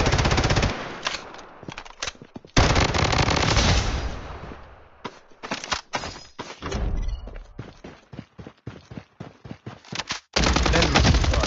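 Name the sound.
heavy gunfire in the video game Blood Strike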